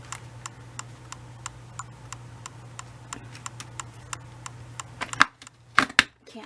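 A camera's autofocus motor clicks in a steady, evenly spaced train of small ticks over a low electrical hum, close to the microphone, ending with a few louder handling clatters.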